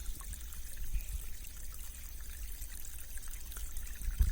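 A stream ripples and trickles steadily, a soft continuous babbling wash with small splashy accents, fairly faint and uninterrupted.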